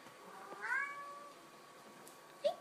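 A house cat gives a drawn-out, wavering meow, close but fairly soft, then after a quiet pause makes a second short, sharper mew.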